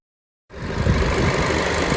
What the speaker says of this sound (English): Now here's the engine.